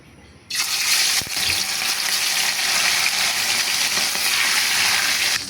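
Boneless milkfish (bangus) dropped into hot oil bursts into a loud, sustained sizzle and hiss that starts suddenly and keeps going strongly, close by, with no talk over it.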